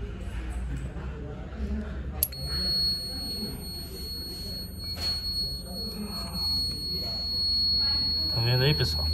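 A multimeter on its continuity setting sounds a steady, high electronic beep while testing a 4 TM thermal protector from an Electrolux refrigerator. The tone starts abruptly and holds for about seven seconds amid low room noise and faint voices.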